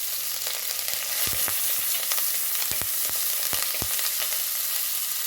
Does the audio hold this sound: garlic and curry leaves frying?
yes